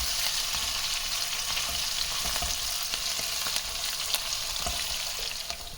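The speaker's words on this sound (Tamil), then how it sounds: "கூடவே பொடியை கட் பண்ணியிருக்கிற இஞ்சி, பச்சை மிளகாய் சேர்த்துக்கலாம். இதோடைய பச்சை வாசனை போகிற வரைக்கும் நல்லா வதக்கிக்கலாம்." Chopped ginger and green chillies sauté in a hot pan, making a steady, close hiss of frying with light stirring scrapes throughout.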